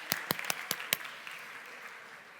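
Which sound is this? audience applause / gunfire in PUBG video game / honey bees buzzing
audience applause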